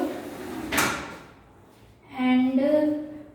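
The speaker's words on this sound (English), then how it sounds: "This is an aluminium mesh door" An aluminium mesh door in a 1BHK flat interior is handled: a sharp clack, a short pause, then a drawn-out squeaky scraping slide lasting about a second, fairly close.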